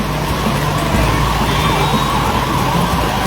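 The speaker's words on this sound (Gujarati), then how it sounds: "હવે જો એમ્બ્યુલન્સ આવે છે ઓલી બાજુથી" An ambulance siren wails steadily over loud, dense traffic and street noise on flooded streets during heavy rain in Surat, the vehicle sounding fairly close.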